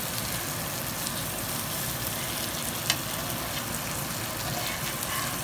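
Koli style fish fry sizzling in a hot pan as the crisp-coated pieces are turned one by one, a steady dense crackle with a faint clink of a utensil, close and constant, no voices.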